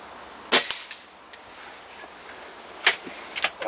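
BSA Lightning air rifle firing on an outdoor range: a handful of sharp, close cracks spaced irregularly, with two clustered early, a lone one later and a quick pair near the end, set against a quiet background.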